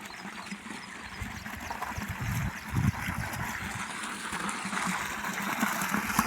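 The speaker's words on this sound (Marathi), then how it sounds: "मी आजच मोटर चालू केलेली आहे आणि गढूळ पाणी निघत आहे" Muddy water gushes and splashes steadily from a farm borewell pipe driven by a motor, a continuous close rushing flow that grows slightly louder toward the end, with no voices.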